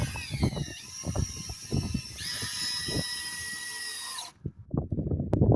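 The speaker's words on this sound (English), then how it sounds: "We're gonna use a 4-inch screw, and Fred put a washer at the end of it" A power drill drives a 4-inch screw fitted with a washer, whirring in steady bursts that rise in pitch partway through, then stopping abruptly near the end, with low knocks and handling sounds underneath and afterward.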